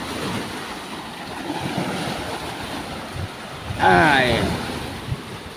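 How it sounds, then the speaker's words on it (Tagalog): Big waves and gusting wind at the shore under an overcast sky, a steady broadband roar of surf and wind noise on the microphone, with a man's brief exclamation partway through. "Ang lalaki ng balod."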